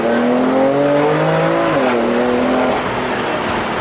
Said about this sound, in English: I don't think I'm supposed to be driving this hard right now.